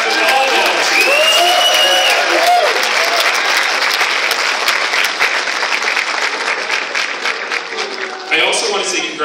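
An audience at a gala bursts into loud, sustained applause for volunteers, the dense clapping holding steady for several seconds before tapering, with some cheering.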